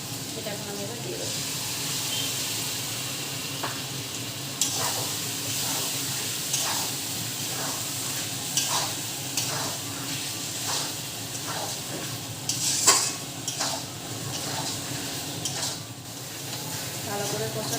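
A cashew, raisin and curd paste goes into a pan for home-style Kashmiri aloo dum, with a soft continuous sizzle and repeated scraping stirs of a spoon against the pot at close range.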